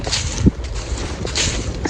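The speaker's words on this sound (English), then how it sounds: "It's a bit windy" Low rumbling wind buffeting the microphone while pike fishing, a continuous rough roar with a brief gust thump.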